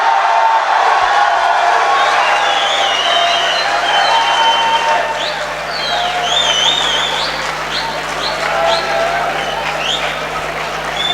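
An audience at a poetry recital applauds loudly and steadily throughout, a dense wash of clapping with some scattered voices and whistles mixed in.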